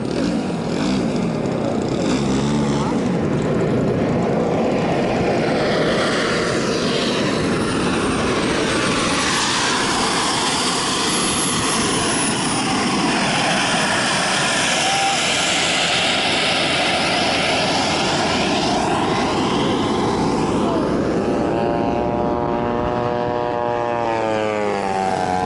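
A radio-controlled model airplane engine at an annual RC aircraft meet, running as if low on fuel, drones loudly and continuously throughout, its pitch wavering and sweeping as the plane passes.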